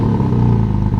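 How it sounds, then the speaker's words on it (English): A Porsche GT4 RS with a titanium exhaust system idles loud and close, a steady deep rumble with a slight clatter just after starting, no voices over it. "Go on, start the engine."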